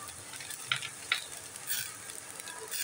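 Beans, peas and carrots frying in a pan for ragi soup, a soft continuous sizzle with a few light spoon clicks and stirring scrapes, quiet and close, without talk.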